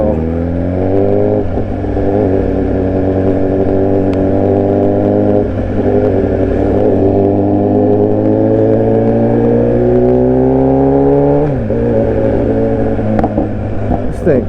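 A BMW engine pulls hard through the rev range in a steady rising drone, with a clear drop in pitch at each smooth gear change, heard from inside the car.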